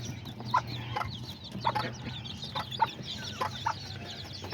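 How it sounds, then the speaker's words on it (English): Aztecas hen clucking with her baby chicks, a series of short repeated clucks at a steady pace amid the high, overlapping peeps of the chicks, close by with light background noise. "there she is with her baby chicks."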